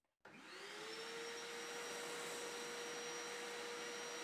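A cyclone dust cart vacuum starts up and sucks up crushed leaves and dust, a loud steady motor whine with a high tone over rushing airflow that holds after the brief switch-on.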